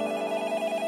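A telephone rings close and steady with a continuous electronic trill and fast pulsing, alone with no speech.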